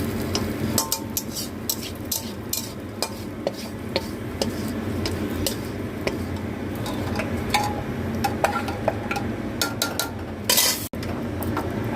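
Lentil dal being stirred inside a pressure cooker pot, with repeated metallic clinks and scrapes of a spoon against the pot scattered irregularly over a background hiss, close by and fairly loud.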